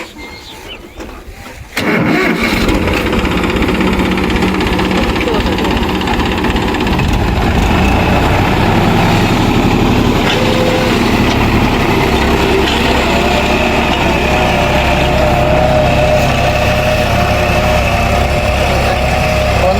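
A tractor pulling a ridge plough through a field runs with a steady, close engine drone that starts abruptly and holds constant throughout.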